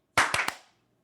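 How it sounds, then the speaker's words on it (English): A small group claps together on cue after a countdown, a short burst of sharp overlapping claps lasting about half a second, then silence. "All right, we can clap."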